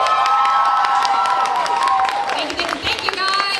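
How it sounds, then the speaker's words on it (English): A crowd at a cosplay competition applauds and cheers, with a bright sustained whoop and shouting riding over scattered clapping, fairly loud and close. "So massive round of applause to Amy and Jamina."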